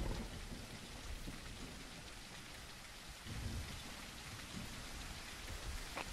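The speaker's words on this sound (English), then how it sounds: "Especially since it's raining" Steady rain falls in a video game, a dense even hiss of drops on surfaces with low rumbling underneath, faint and unbroken for the whole stretch with no talk.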